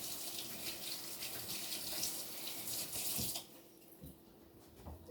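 Running tap water pours over a spatula in a kitchen sink, a steady broadband splashing stream that drops off sharply partway through, leaving quieter room sound with a brief clink near the end.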